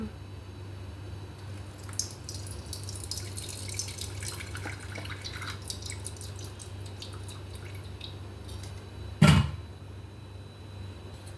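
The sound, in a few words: amla gooseberry juice being strained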